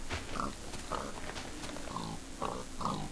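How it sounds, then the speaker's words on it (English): A pig in the Minecraft video game grunts and oinks in short repeated bursts, about five evenly spaced calls over a low background, moderately loud and with no speech. "So now I'm just gonna go punch this pig to death with an arrow."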